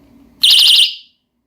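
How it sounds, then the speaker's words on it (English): Personal anti-attack alarm sounding after its pin is pulled, a piercing warbling electronic shriek that bursts on suddenly and lasts under a second before cutting off. "pull out the pin to check that the alarm is working"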